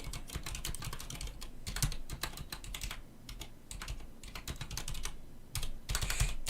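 Rapid, irregular computer keyboard typing, close and fairly loud, with bursts of clacking keys and brief pauses across several seconds, no voices.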